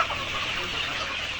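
A big flock of layer chickens fills a farm shed with a constant dense clucking murmur, steady and loud, with no single bird standing out.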